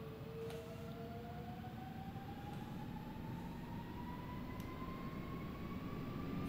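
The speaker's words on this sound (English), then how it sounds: "Parking brake is released, and we're going to go for maximum power" Aircraft engines spool up to maximum takeoff power in the X-Plane 12 flight simulator, a steady loud roar with a tone that climbs slowly throughout, no talking over it.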